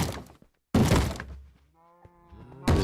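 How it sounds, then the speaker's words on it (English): Zombies in Minecraft battering a door, with heavy hollow thunks and splintering knocks arriving in separate blows between short gaps, while a low groaning, bleat-like zombie moan rises in the lull. "there's some zombies breaking down my door"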